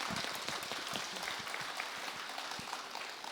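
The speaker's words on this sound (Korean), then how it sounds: "이게 얼마나 지루했으면 마친다고 하는 말 한마디에 박수 소리가 이렇게 나니까" Audience applause at Jogyesa temple after a Buddhist dharma talk closing a spring prayer service: a steady, even wash of many hands clapping, fairly distant and quiet, lasting throughout.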